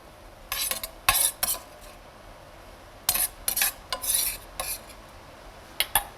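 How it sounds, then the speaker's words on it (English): A utensil scrapes crispy bacon out of a hot pan for a Hangtown fry, in short bursts of scraping and clinking metal separated by quiet gaps over a faint sizzle. "All right, I'm gonna remove the bacon for now."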